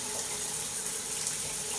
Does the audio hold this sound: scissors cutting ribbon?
no